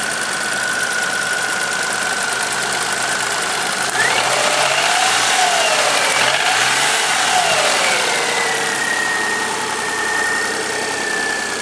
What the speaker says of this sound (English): Can't rev it too high since the engine is so cold.